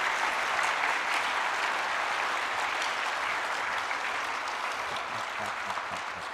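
A large audience at a PAX East 2023 Q&A panel applauds, a dense, continuous wash of clapping and cheering that stays loud and even throughout, fading only slightly at the end.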